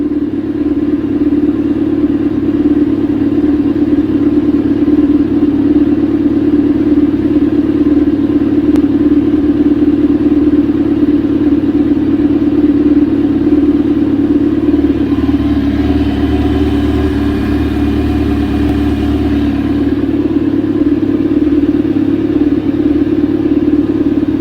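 A Kawasaki ZX10R motorcycle engine, rebuilt after repairs, idles steadily indoors at operating temperature, a constant low droning hum that stays loud and even throughout with a faint rise in pitch partway through.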